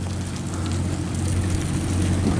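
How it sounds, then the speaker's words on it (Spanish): Steady rain falling under a black sky as Hurricane Beryl nears the port of Veracruz, a continuous hiss of drops on surfaces with a low rumble beneath, close and unbroken. "está lloviendo, está el cielo negro"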